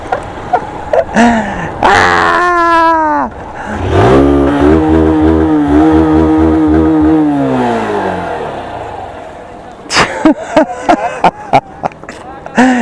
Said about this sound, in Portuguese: Não vou nem desligar a moto.